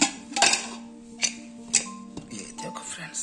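A pressure cooker holding spinach and mutton curry (palak gosht) is opened in a home kitchen, giving a few sharp metallic clinks and knocks of the lid against the pot, close and separate, with quiet moments between them.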